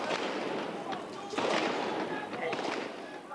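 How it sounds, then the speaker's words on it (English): Gunfire from troop lorries on the road near Tiananmen Square in June 1989, a cluster of sharp cracks and pops amid crowd noise, with shouting around them. "there was gunfire from those lorries"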